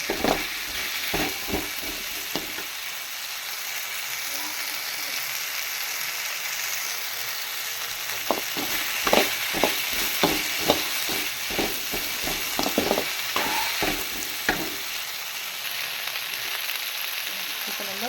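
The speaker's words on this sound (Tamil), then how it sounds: "இப்போ நம்ம வெண்டைக்காய் ஆட் பண்ணியாச்சு இது நல்லா ஃப்ரை பண்ணிக்கலாம்" Okra fries in a pan with a soft, continuous sizzle. Scattered clicks and scrapes from stirring come through clearly, louder in the middle stretch.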